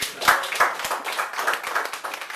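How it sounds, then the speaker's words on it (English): Scattered hand clapping from a startup-business audience, a brief uneven patter of claps with distinct individual hits rather than a full ovation. "Give a hand clap for yourself"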